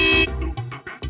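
A vehicle horn gives one short, loud honk in a crowded neighbourhood street, followed by quieter scattered sounds.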